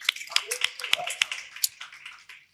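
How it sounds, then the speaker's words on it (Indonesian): A few light, sharp claps in an uneven rhythm from a small group of friends in a casual talk-show setting, with voices murmuring and chattering underneath. "Tepuk tangan dulu teman-teman."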